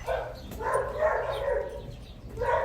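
A puppy yelps and whines in repeated short, high-pitched cries over a continuous low background rumble, moderately close, with no talking.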